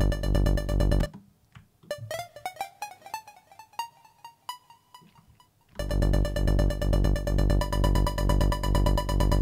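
Square-wave synth line in steady sixteenth notes, washed in reverb and delay, heard alone in a sparse break between dense, loud full-mix sections at the start and end.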